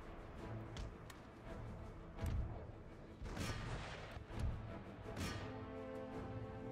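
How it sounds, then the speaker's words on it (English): Field artillery fire in the game Empire: Total War: a dense, continuous battle din of overlapping booms and cracking volleys, with several heavier blasts standing out from the sustained roar. "Field artillery."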